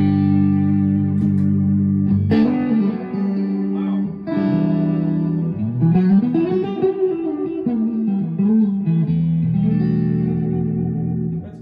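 Clean electric guitar tone with delay and reverb, sustained chords and melodic bends ringing out openly and close, notes blooming into echoing tails across a long unhurried phrase.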